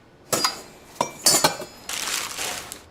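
A few sharp clinks of glass dishes, including martini glasses, knocking together, close and separate, followed by a longer rattling clatter.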